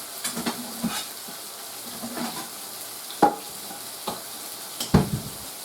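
Garlic butter chicken being stirred in a hot pan with a spatula, giving scattered scraping knocks and soft sizzling in uneven bursts, close and moderately loud.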